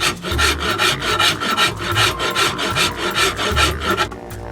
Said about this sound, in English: working with the Farrier's rasp here in order to get the final straight surfaces.